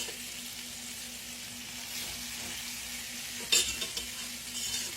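Chicken gizzards smother frying slowly in olive oil in a skillet, giving a soft, steady sizzle with a brief clatter of a utensil near the end, close and fairly quiet.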